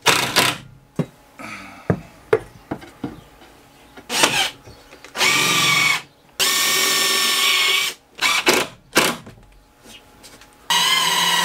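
A power drill drives GRK screws into wood in a wall frame for a school bus conversion. It comes in short whirring bursts and several longer sustained runs, close and loud, with clicks and handling noise between them.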